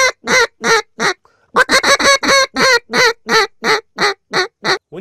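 Duck call blown to draw ducks back, loud and close: quick series of raspy, nasal quacks in two bursts separated by a short pause, with no talking.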